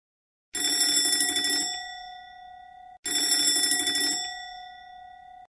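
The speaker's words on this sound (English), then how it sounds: "I know I'm going to set off the house's fire alarm" A house fire alarm rings in two long electronic bell bursts, each about a second and a half, with a sustained tone trailing after each burst. The bells are loud and close, with no talking.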